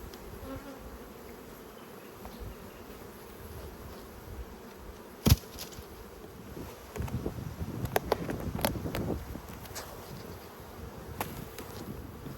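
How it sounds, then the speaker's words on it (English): Honey bees buzz steadily inside the top box of an apiary hive, a continuous droning hum with some wind noise and a few louder knocks and handling bumps partway through. "Sounds like a lot of bees up in the top box."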